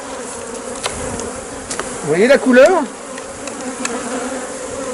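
Honeybees buzzing around a brood frame being shaken over a hive during a colony split, a steady close hum with a brief louder swell of wavering buzzes midway, while a person speaks briefly.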